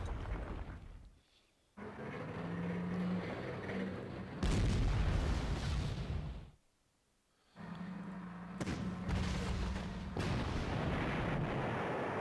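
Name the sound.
tank gun firing in Panzer Corps video game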